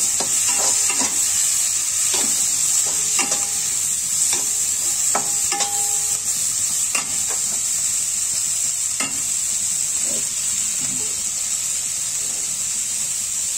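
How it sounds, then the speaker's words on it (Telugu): Onions for a butter chicken gravy fry in a pan until coloured, a constant bright sizzle throughout with repeated clicks and scrapes of a spoon stirring at irregular intervals; no talking. "ఆనియన్స్ని వేసుకుంటాం ఇవన్నీ కూడా కొంచెం కలర్ వచ్చేంత వరకు ఫ్రై అవ్వనివ్వాలి"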